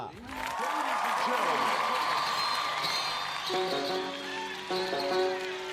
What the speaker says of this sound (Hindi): तो जोरदार तालियों से स्वागत करेंगे सिमर दुआ